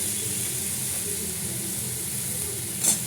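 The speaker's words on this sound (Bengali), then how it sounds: "এবার আলুগুলো দিয়ে দিচ্ছি" Potatoes frying in a pan with onions, a soft, steady sizzle close by under a low hum, with a brief clatter right at the end.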